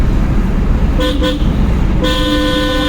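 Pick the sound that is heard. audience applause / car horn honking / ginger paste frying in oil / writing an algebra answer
car horn honking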